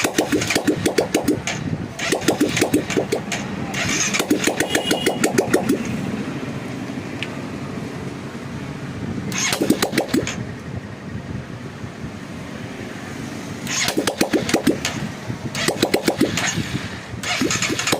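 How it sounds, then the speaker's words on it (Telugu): A restored Hero Karizma motorcycle with a new carburettor turns over in repeated bursts of cranking and engine noise, with quieter gaps in between. The engine catches briefly several times rather than settling into a steady idle, loud and close. "ఇప్పుడే కదా బండి స్టార్ట్ చేయడం."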